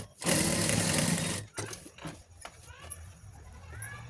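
A sewing machine stitching along the top of small scraps of cloth, a loud steady close-up whir for just over a second before it stops, followed by quieter handling clicks and rustling.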